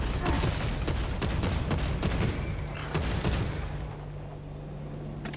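Rapid gunfire in the video game Space Marine 2, loud dense bursts of shots that thin out and fade into a lower rumble toward the end.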